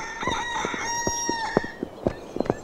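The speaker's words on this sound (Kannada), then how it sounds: "ಏನೇ ಇದು ಕೋಳಿ ಶಬ್ದ? ಕೋಳಿ ಅಲ್ಲಪ್ಪ, ನನ್ನ ಮೊಬೈಲು." A mobile phone rings with a rooster-crow ringtone. A drawn-out cock-a-doodle-doo is followed by a series of short, sharp clucking bursts, moderately loud and close.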